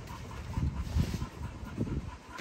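Older dog panting close by, quick rhythmic huffs in uneven bursts, fairly loud with no talk over it.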